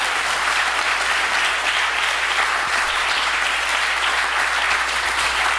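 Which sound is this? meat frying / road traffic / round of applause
round of applause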